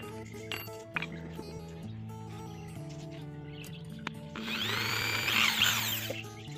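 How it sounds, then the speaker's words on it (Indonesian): A power drill bores a 3 mm hole in metal while an Innova air rifle is reworked into a bullpup. A steady motor hum sounds first, then a louder, grinding whine rises for the last couple of seconds. "Saja ambil bor dulu, ukurannya kayaknya kawatnya 3 mili sahabat"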